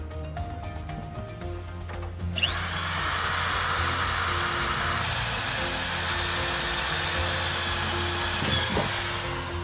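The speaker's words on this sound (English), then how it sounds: "Go ahead and drill 8 3/8-inch holes through the bottom of the cab floor" Power drill boring 3/8-inch holes through the steel floor of a Freightliner truck cab, a steady loud whine that runs continuously after a brief start-up, close by with no talk.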